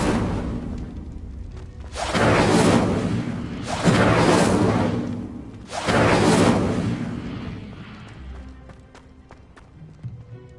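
Incendio fire spell cast in the video game Hogwarts Legacy: three loud, broad roaring whooshes of flame in quick succession, each lasting over a second, fading into quieter game ambience with a few soft ticks.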